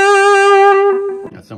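Electric guitar through a Big Muff fuzz pedal, one loud, thick fuzzed note sustaining for about a second before breaking into a short muddy rumble of lower notes.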